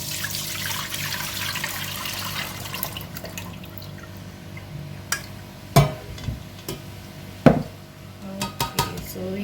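Carrot, ginger and lime juice being strained in a kitchen, with clinking dishes and utensils and trickling liquid, plus a few sharp knocks of a sieve or bowl toward the end.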